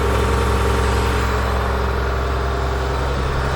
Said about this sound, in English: let a new engine run about half throttle